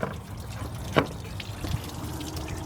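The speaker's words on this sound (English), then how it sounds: "That's just flushing water though, so trying to get all the water out of the radiator" Flushing water drains from the radiator of a 1996 Chevy Tahoe with a 5.7-liter V8, parked out in a yard, giving a steady low trickle and pour with one brief louder splash near the middle.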